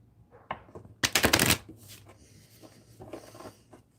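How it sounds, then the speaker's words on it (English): A deck of tarot cards gets one close, loud riffle shuffle lasting about half a second, framed by light taps and soft handling over a quiet room hum. "One more shuffle here."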